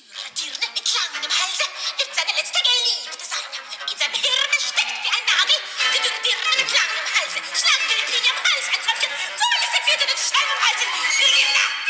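A soprano sings Galgenlied from Schoenberg's Pierrot Lunaire with quick, clipped, rhythmic half-spoken utterances. Sharp bursts of instruments accompany the voice throughout the very short, fast-moving song.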